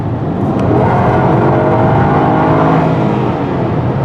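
A Porsche Cayenne Turbo SUV engine accelerating hard, a loud, steady, rising roar that fills the whole stretch from inside the car, with no talk.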